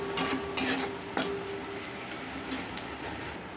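Onion and tomato masala stirred in a pan (kadai) for egg do-pyaza, a steady soft sizzle with a few scraping spoon strokes against the metal, and no talking.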